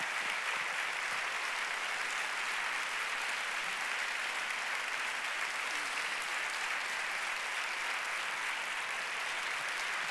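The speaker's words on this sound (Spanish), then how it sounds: "Fuerte aplauso para él, por favor." A large audience at a public event on education in Spain gives a strong, sustained round of applause, a steady wash of many hands clapping at a fairly even level throughout.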